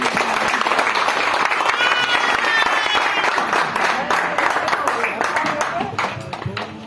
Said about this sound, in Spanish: Aplauda y pueda sentarse